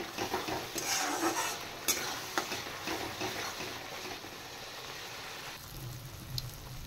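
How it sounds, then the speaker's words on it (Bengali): Spices with salt, turmeric and chili powder are fried and stirred in a pan, a quiet continuous sizzle broken by scraping stirs and a few sharp clinks, with no talk. "এবার মশলাটা একটু ফ্রাই করে নেব"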